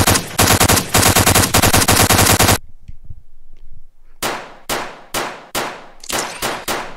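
Uzi gunfire in the Realms VR game: a loud, rapid burst of automatic fire, a short quiet gap, then a series of separate sharp shots with ringing metallic tails.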